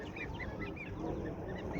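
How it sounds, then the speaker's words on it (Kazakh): Young chicks, about two weeks old, chirp continuously at a busy poultry market, a dense overlapping mass of high peeps over steady crowd and market noise nearby. "Балапандар. 2 апталық деп тұр."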